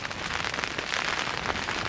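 Steady rain pattering on a tent fabric during a caribou hunting trip in windy weather, a dense continuous hiss of drops close overhead with no voices.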